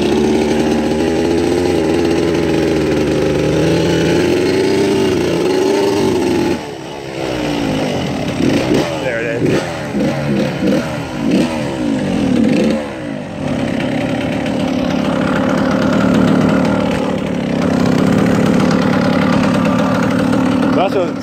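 A 2003 Suzuki RM85 two-stroke dirt bike engine runs loud and close, holding a raspy idle before revving up and down in sharp bursts, then settling into a steady higher drone.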